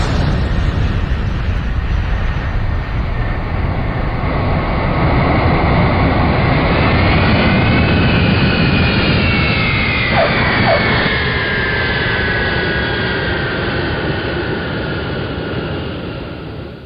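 Jet airplane taking off, a loud roaring engine rumble that swells and sustains with a rising whine, then slowly fades as the aircraft departs.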